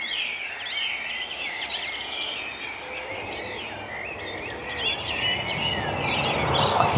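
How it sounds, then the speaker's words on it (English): A song thrush sings within a dense dawn chorus half an hour before sunrise, its repeated phrases woven among many other birds' continuous overlapping song at moderate distance, with no voices present. "I can just about pick out a new bird, which is the song thrush"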